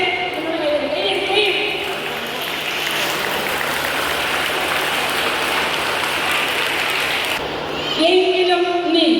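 Teachers applaud together at a Teachers' Day celebration, a broad wash of clapping that swells in the middle and holds for several seconds. Voices are heard briefly before and after it.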